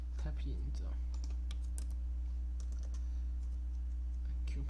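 Keys click in quick irregular bursts on a computer keyboard, close and fairly quiet over a constant low electrical hum, with a voice talking intermittently.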